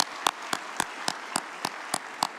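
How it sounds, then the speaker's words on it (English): Evenly spaced claps at a closing ceremony of the African Development Bank annual meetings, hosted by the Republic of Congo. About nine crisp, rhythmic beats sound close and fairly quiet, with no talking. "let's clap for the Republic of Congo for being such a great host."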